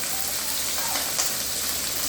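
Pabda fish fries in hot oil in a Bengali kitchen, giving a brief, even hiss of sizzling and spattering with faint crackles and no voices.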